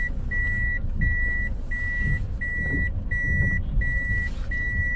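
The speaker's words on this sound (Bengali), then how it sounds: "রিভার্স গিয়ারে গাড়িটা আস্তে আস্তে পিছন পিছনের দিকে নেবেন" A car reverses slowly into a parking space, its reversing alarm beeping in a steady repeating pattern over a low engine rumble, close and without speech.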